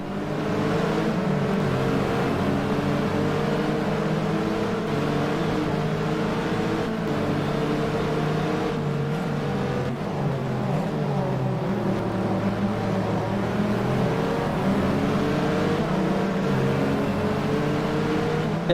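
A GT race car at full throttle on the Silverstone circuit in a racing game, its engine droning loud and steady with a slight rise and dip in pitch throughout, heard alone.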